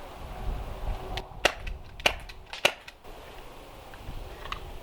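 Three sharp, close cracks of a Novritsch SSX23 airsoft sniper rifle fired with a short suppressor, spaced about half a second apart against a quiet outdoor background, with a fainter click later.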